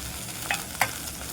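Chopped tomato with onion and garlic sautéed in oil: a short burst of constant frying hiss with two quick spatula scrapes or taps, close and moderately loud, no voices.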